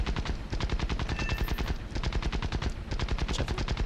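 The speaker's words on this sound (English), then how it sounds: "Pumped a few rounds into this guy." Rapid bursts of aircraft machine gun fire in the War Thunder dogfight game, dense rattling volleys repeating almost without pause across the whole stretch, loud and close.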